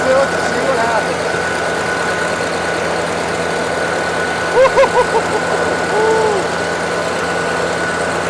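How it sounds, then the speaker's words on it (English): Tractor running a PTO-driven blower, a steady loud engine and fan drone with a constant low hum, sustained throughout, with a few brief muffled voices faintly over it. "Turn the blower on and just drive into it to see what happens."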